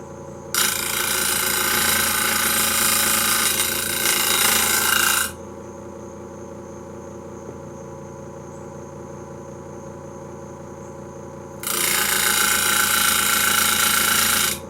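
Bench grinder sharpening a woodturning tool, two loud bursts of bright, harsh grinding about six seconds apart with the motor humming steadily between them.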